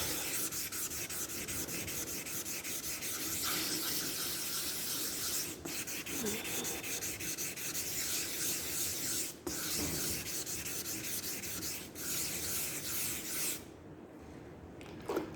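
Wet sandpaper rubs primer on a Honda ST 1100 in a steady, continuous rasping scrub, close up, with a few brief pauses and small knocks.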